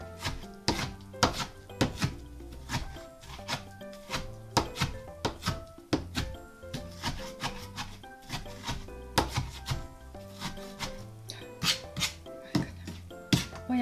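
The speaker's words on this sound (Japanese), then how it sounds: "みじん切りにしなさいっていうことなので、みじん切りじゃないけど、これ" Onion being finely chopped with a knife on a board, a steady run of sharp, close knife taps in quick irregular bursts, fairly quiet with no talking.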